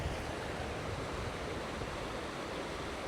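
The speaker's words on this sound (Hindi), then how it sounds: "ऊपर से झरना आ रहा है पानी, और ये पानी यहाँ आ रहा है" Glacier meltwater pours down as a waterfall beside the Carretera Austral in Chile, a loud, close, continuous rushing roar with no talk.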